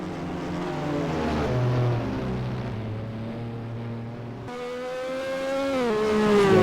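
Formula 1 race car engines in the NASCAR Racing 2003 video game, several steady high-pitched engine tones droning together, one car rising and then bending down in pitch as it passes close by.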